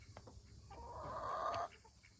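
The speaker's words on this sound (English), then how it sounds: "Colonel, what were you doing, Colonel, yelling like that in the woods?" A rooster crows once outdoors in the woods, a drawn-out, fairly near call rising and holding before cutting off, with softer hen clucks and farmyard rustle around it.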